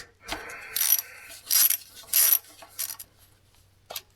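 Ratchet wrench working a 10mm bolt on a 4L60E transmission, heard as a few short bursts of clicking, close and fairly quiet, spaced by brief pauses with no talking.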